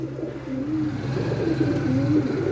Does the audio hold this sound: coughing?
no